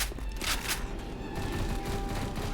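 Gunfire from a sniper rifle in a Left 4 Dead custom campaign, The Seal of Asrahmat, with a couple of sharp shots early on over steady game ambience and rumbling background noise.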